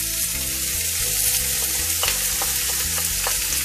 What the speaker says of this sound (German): Wir fangen jetzt an und braten das Mett,